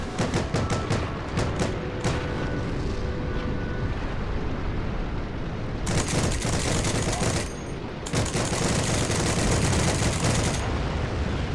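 Sustained video game war gunfire with rapid machine-gun bursts and heavy booms, a tank battle raging continuously, loud and dense with brief lulls between volleys, and faint voices mixed underneath.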